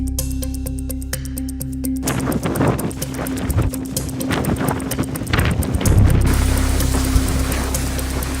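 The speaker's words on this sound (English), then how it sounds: "Yeah, it's real windy." Strong wind blows outdoors, roaring loudly and buffeting the microphone in continuous rough gusts that swell toward the end.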